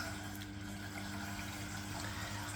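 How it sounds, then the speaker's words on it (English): A Samsung VRTplus washing machine drain pump runs in service test mode, pumping water out of the tub with a steady, faint hum and a low watery gush, alone and continuous. "any water that was in the tub is actually being drained out. This is testing the drain pump."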